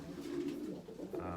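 A young pigeon gives a close, soft, throaty coo, one short rolling call over a quiet indoor background.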